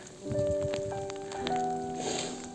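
Soft patter of winter rain on a surface in Saint John, New Brunswick, steady for a few seconds, with some faint sustained tones mixed in.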